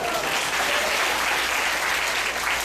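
A crowd at a magic show applauds in a steady, dense wash of clapping that runs evenly through the whole stretch, moderately loud, with no distinct voices.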